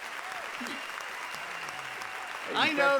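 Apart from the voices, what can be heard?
audience applause for a performer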